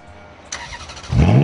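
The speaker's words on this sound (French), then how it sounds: "Deux coups de gaz suffisent à s'en rendre compte." A Ferrari engine is blipped, its throttle opening into a loud, rising rev that swells near the end of the short burst, up close with no talk.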